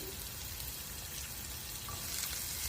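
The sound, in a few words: chili, ginger and garlic sautéing in a pan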